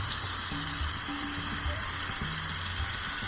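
Hot chili tempering poured into mashed amaranth greens (mulai keerai masiyal) gives a steady, close sizzle and hiss lasting throughout, with faint low clinks from the pan.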